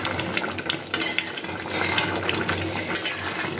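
A jackfruit and prawn curry with potatoes and garam masala powder is stirred in a pot, a wet sloshing churn with light clinks of the spoon against the sides.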